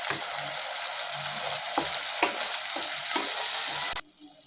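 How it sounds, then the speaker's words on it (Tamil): Ground paste sautéing in a hot pan for soya chunk gravy, a dense steady sizzle with a few soft stirring scrapes, close and loud before cutting off abruptly near the end. "அரைச்ச விழுதை இதில் சேர்த்து நல்லா வதக்கிக்கணும்"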